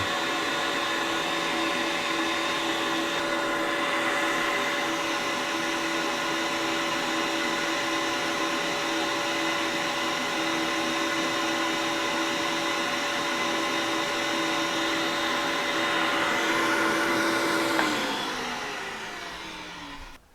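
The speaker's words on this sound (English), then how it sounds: "So I'm going to hold this one upright and then turn on the vacuum." A vacuum cleaner drones loudly and steadily at close range for a long stretch, then shuts off and winds down near the end.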